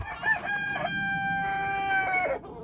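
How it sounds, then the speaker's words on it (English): Rooster crowing with chickens clucking in a barn, two long harmonic crows rising over a steady bed of hen chatter, close and fairly loud throughout. "we'll let the chickens out."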